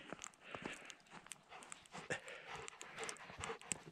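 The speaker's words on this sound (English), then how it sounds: "That looks like a happy dog." A dog pants in the snow during a winter camping trip, with quick, soft, rhythmic breaths and faint crunching steps, quiet and close.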